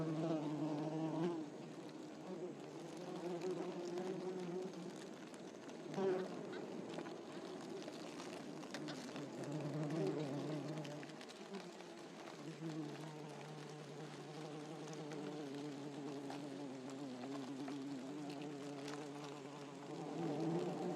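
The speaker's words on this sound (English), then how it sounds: "the more quotidian buzzing of bees, busy with their daily chores" Bees buzz steadily through a forest, a continuous low hum spread across the whole stretch, with a voice speaking over it throughout.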